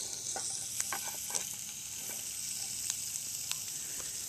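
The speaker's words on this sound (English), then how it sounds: "You can hear it sizzling up." Pieces of salt pork frying in a pan, a quiet steady sizzle with small pops and the occasional clink of a utensil, close up and with no talk.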